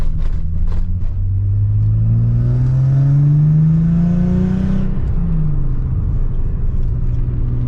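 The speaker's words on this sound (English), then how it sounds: "It's very loud, raspy, got a couple exhaust leaks" A loud car engine with a couple of exhaust leaks revs up, its pitch climbing then dropping back to a rough, raspy idle rumble, close by and without voices.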